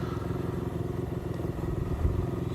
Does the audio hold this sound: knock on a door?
no